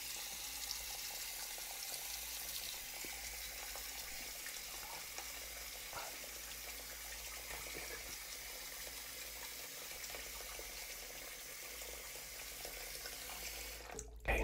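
Water running steadily into a sink in a barber-shop setting, a constant soft rush at low level with no talking, ending in a brief louder bump.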